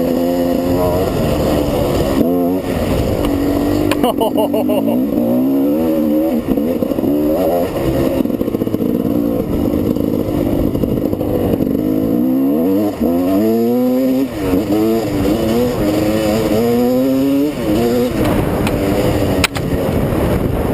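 A GasGas high-performance four-stroke motorcycle engine revs loudly and continuously, its pitch climbing and falling in repeated throttle blips over a steady mechanical roar, close to the listener.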